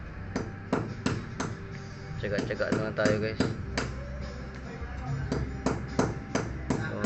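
Sharp blows from an old hammer strike repeatedly at an irregular, steady pace, close and loud, while a person speaks briefly between the knocks during repair of a water leak.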